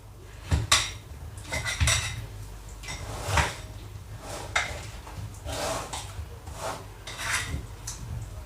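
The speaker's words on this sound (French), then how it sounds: "Et du coup, je vais mélanger mes fruits." A spoon mixes cut fruit with lemon juice and honey in a bowl, giving irregular clinks and soft scrapes at close range, with no talking.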